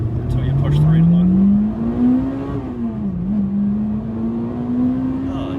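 A Honda Integra DC5 Type R engine revving up toward redline from inside the car, a loud rising engine tone that climbs, dips briefly on a shift, then climbs again, with voices in the cabin over it.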